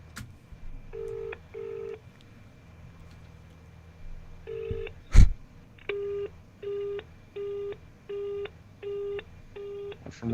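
Telephone call tones from a Star Trek–themed livestream: a few ringback tones, then a loud click and a steady series of regularly spaced busy-signal beeps, each short and evenly paced, heard clearly over a quiet background.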